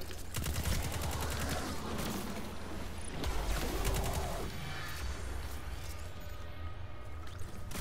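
Gunfire in the video game Destiny 2 crackles in rapid bursts and sustained fusillades, mixed with explosions and game effects at a fairly steady, dense level.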